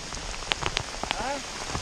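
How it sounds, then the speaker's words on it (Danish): Light summer rain shower falling outdoors on a canoe trip, a steady soft patter with a few sharper drops close by and a brief tonal sweep partway through. "Her regnet det litt."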